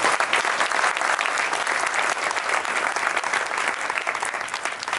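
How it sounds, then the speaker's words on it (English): Conference audience applauds in a thick, continuous wash of clapping from many hands, steady and fairly close from start to finish. "So big round of applause for Stan."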